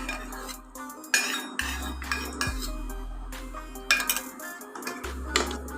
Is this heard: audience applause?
no